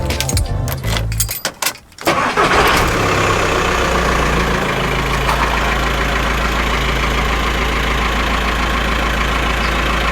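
A VW Transporter T5 1.9 TDI diesel engine cranks with jangling keys, catches after about two seconds, then settles into a steady, loud, close idle that runs alone to the end.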